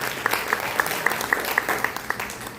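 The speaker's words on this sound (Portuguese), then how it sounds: "Você pode aplaudir o nome do Senhor Jesus?" Church congregation applauding during a family worship service, a dense wash of clapping with several sharp individual claps standing out near the microphone.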